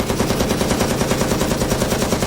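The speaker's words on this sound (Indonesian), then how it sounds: "Target 30 meter, tembak." Rapid gunfire in an underground base during a zombie apocalypse, aimed at a target 30 meters away, sounding as a dense, loud, continuous burst of shots with no pauses.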